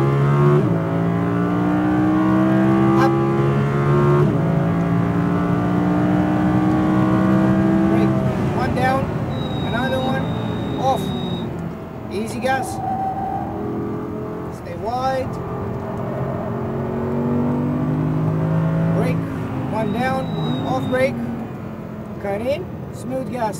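An Audi R8 V10 RWD on a race track accelerates hard through the gears, its engine note rising and falling as it runs corners and straights, while an instructor keeps talking over it.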